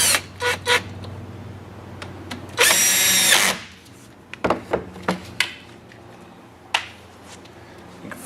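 A power drill drives screws into a dowel while replacing the rod tape on a GR1000T, sounding as short close whirring bursts, one longer burst in the middle, and scattered clicks and handling knocks between them.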